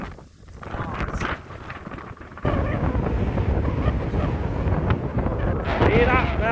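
Wind gusts across an open April sheep farm, rumbling against the microphone in steady buffeting waves that swell louder after a brief lull, with no speech over it.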